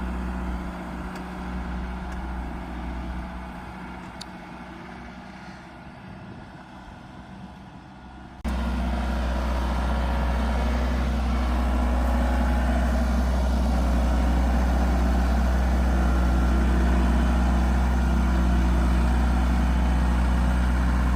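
Belarus tractor engine working with a grapple while tilling a country garden, a deep, steady diesel rumble that idles low at first, then jumps louder and stays there for the rest of the stretch.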